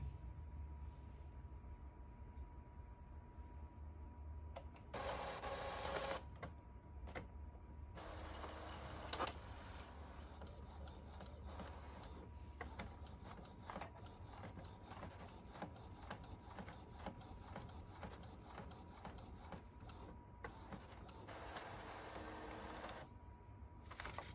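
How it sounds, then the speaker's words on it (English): An Epson EcoTank 4760 inkjet printer runs a nozzle check, giving quiet mechanical whirs, clicks and rhythmic print-head passes, with a few brief louder feed bursts and no speech. "so now we're gonna do a nozzle check. I'm gonna hit print and then print"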